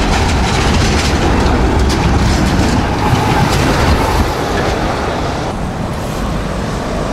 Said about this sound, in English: Check out these trams.